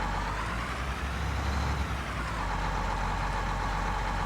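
Tractor engine in a farming video game, a steady low idling rumble with a constant broadband drone, no talking.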